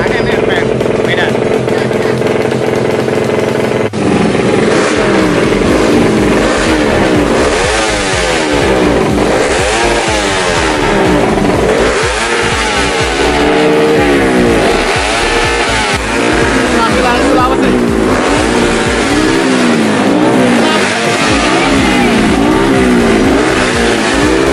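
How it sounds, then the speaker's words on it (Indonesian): A racing motorcycle engine revs repeatedly in the paddock at the Yamaha Cup Race 2018 grand final, rising and falling in loud surges under close, continuous talk. "Oh, nanti ngegas lagi."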